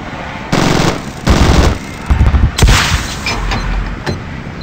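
Heavy machine gun fire from a circling gunship in the Zombie Gunship Survival video game, loud repeated bursts of rapid rounds with short gaps, booming impacts trailing into a lower rumble.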